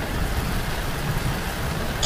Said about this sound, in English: It's raining on the housetop.